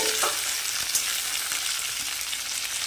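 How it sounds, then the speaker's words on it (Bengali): Mustard seeds sizzle in hot oil with a constant, close, hissing crackle that holds even throughout, and no voices. "একটু নাড়াচাড়া করে এবার এতে সর্ষে দেবো"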